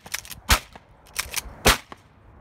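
Two sharp shotgun blasts on a dove hunt near Reno, Nevada, each a loud close crack with a short decay, roughly a second apart, with fainter bangs and outdoor noise between them.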